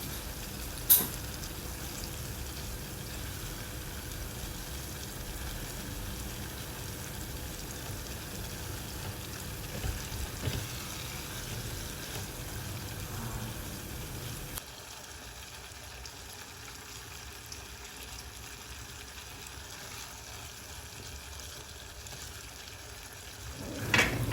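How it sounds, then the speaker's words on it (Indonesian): Sardines in soy sauce and oyster sauce frying in a pan, giving a steady, moderately loud sizzle with soft stirring scrapes that continues throughout, with no talking. "setelah kita masukkan kecap dan saus tiramnya, kita aduk sampai masak"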